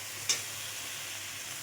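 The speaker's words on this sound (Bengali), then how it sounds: "এই যে চপের মশলাটা আমি ভালো করে নাড়িয়ে নেব।" A ground spice mixture for potato chops sizzles steadily in a kadai over a gas flame, a faint, even hiss with one brief sharp clink of the stirring utensil near the start.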